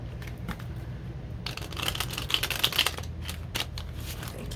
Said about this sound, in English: One more shuffle for group 3,